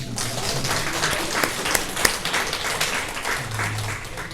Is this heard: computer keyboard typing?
no